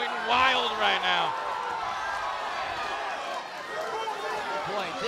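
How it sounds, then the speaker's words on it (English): A crowd at a PAK 21 kickboxing fight roars in a steady wash of noise, with a voice rising above it early on. "The crowd going wild right now."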